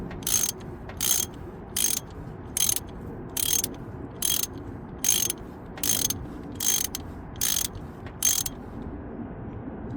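A ratchet with a 19 mm socket loosens the engine coolant temperature sensor on a second-generation Honda CR-V: about a dozen crisp, close clicking bursts in an even back-and-forth rhythm over a quiet background.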